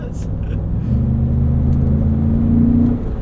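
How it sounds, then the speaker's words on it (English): A 2025 Ford Expedition Max Platinum's engine gives a throaty induction drone while driving, a steady low rumble that rises slightly in pitch under acceleration, close and continuous. "it's that throaty induction noise that Ford has put into their cars since like the Focus ST"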